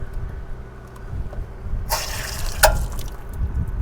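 Water hisses out as pressure is released from a water heater, a sudden strong gush with a brief sharp burst partway through, over low background hum.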